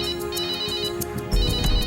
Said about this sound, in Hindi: मेरा फोन है।